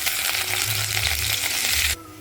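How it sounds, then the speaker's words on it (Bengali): Flour-based paneer (dhoka) pieces lightly frying in a pan give a loud, dense sizzle that cuts off abruptly near the end, leaving a faint hiss. "এবার আমি ভেজে নিচ্ছি"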